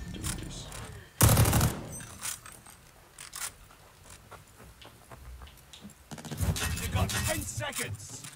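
Gunfire in Call of Duty Vanguard comes in two dense, loud bursts, one short near the start and a longer stretch toward the end, with quieter game mechanisms and faint talk filling the gap between.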